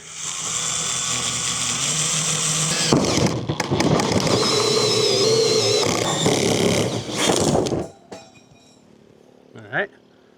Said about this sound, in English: now my hole saw is not big enough. So I'm just going to use this to get it most of the way